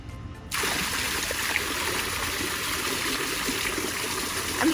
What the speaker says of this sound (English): So we added more water in here, and it's making the spillway smoother up top and start breaking up more close to the bottom